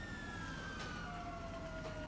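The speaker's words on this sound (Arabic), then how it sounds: "وراي سيارات شرطة في كل مكان" Police car sirens wailing in GTA VR, several overlapping tones sliding steadily downward, faint and distant over a constant low rumble of traffic or engine noise.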